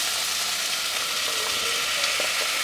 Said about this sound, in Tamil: இப்போ எல்லா காயுமே சேர்த்து வதக்கிடலாம்.